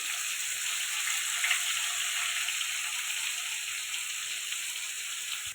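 Onions sizzle in hot oil with cumin seeds and bay leaf, a steady close crackling hiss with small pops and no voices.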